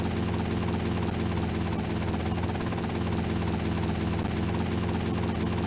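Steady helicopter rotor and engine drone in the video game GTA Vice City, loud and continuous with a constant chopping throb and no talking.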